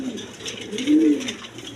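A tagged pair of racer pigeons, a male and a female, give a single soft, close coo swelling in the middle of a short stretch of quiet background.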